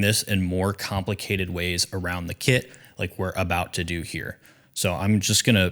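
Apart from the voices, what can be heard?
No everyday noises stand out.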